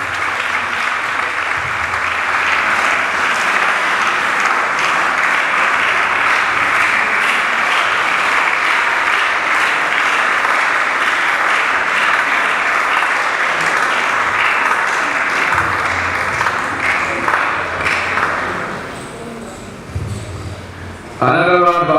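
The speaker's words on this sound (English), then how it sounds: "Another round of applause for Professor Rahman Adisa" A large crowd at a university department's 50th anniversary event applauds loudly and steadily for about twenty seconds, then the clapping fades and a voice comes in at the end.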